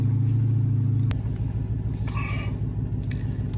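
A 1000 hp Dodge Hellcat with big mod HHP dual fuel pumps pulls hard in fourth gear, a loud steady engine drone and rumble that shifts after a sharp click, then continues with road roar.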